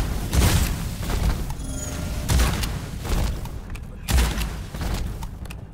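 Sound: shotgun firing in the video game Witchfire

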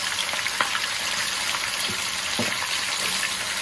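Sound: chicken frying in oil in a pan

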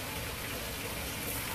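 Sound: loud running water in a fish shop

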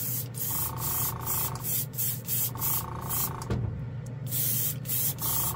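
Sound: Gaahleri number 68 advanced airbrush spraying paint

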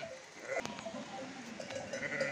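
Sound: orphaned lamb bleating on a farm

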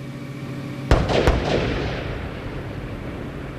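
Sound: twin sonic booms from Space Shuttle Columbia going subsonic

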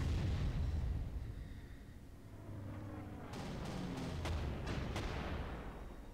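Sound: artillery fire in video game Panzer Corps

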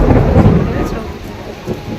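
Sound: thunder and rain

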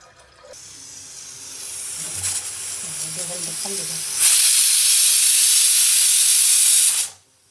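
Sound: pressure cooker releasing steam

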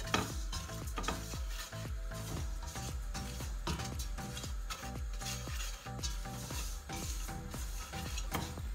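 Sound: semolina being roasted and stirred in a pan on low heat

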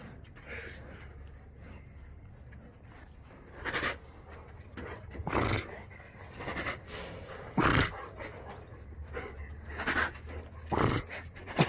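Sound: small dog panting

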